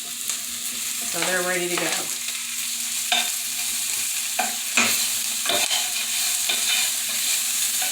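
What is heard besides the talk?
onions and potatoes frying, stirred with a knife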